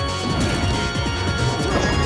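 Forward smash hits in a Super Smash Bros. Melee grand final, with Marth and Captain Falcon against Wolf, heard as loud repeated smacks and crashes over busy game sounds.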